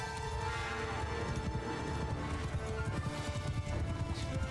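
Horses galloping across a battlefield in Mount & Blade II: Bannerlord, a steady mass of clattering hooves mixed with distant clashes and battle noise, no voices on top.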